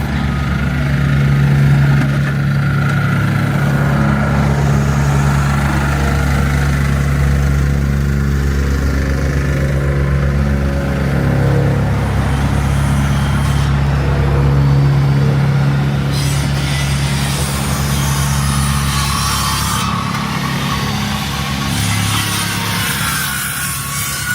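Inside a city bus on Spadina in Toronto, a low engine drone hums steadily throughout, with passing traffic swelling and fading in the background.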